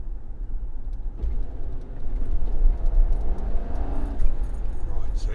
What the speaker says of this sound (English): it did kick down then. Produces a lot of noise and not a lot of power.